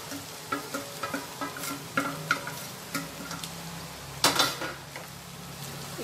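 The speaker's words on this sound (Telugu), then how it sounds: "మనము ఫ్రై చేసి పెట్టుకున్న ఈ చికెన్ని ఇందులో యాడ్ చేసుకోవాలి." Fried chicken stirred into ginger garlic paste and onions in a hot pan, with a steady sizzle, repeated scraping and clinking of a utensil against the pan, and one louder clatter near the end.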